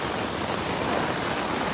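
Heavy rain drumming on a tent during a storm, a dense, steady, close hiss of countless drops with no pauses or voices.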